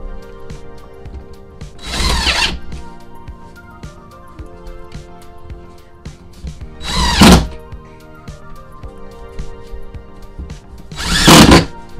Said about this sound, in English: And then I have to screw the plywood.